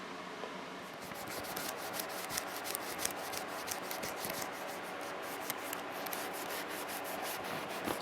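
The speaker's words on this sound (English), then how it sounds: "you just put a little polishing compound on it and rub back and forth with the steel wool" Steel wool with polishing compound rubbed back and forth along a stainless steel brake line, a steady close scratchy scrubbing with quick repeated strokes, no voices.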